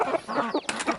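A rooster on a farm, kept with other roosters and hens in a pen, gives brief clucks and calls at close range over a few seconds of light outdoor noise.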